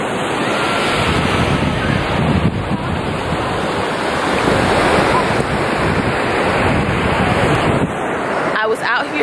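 Ocean surf rolls onto a beach in a continuous loud wash, heavily buffeted by wind rushing across the microphone, with no clear break between waves.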